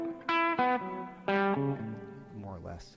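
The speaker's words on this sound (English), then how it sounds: "Just playing the chord tones," A distorted electric guitar plays blues chord tones in a few struck, ringing chords with sliding, decaying notes between them, loud and close, then trails off into softer picked notes.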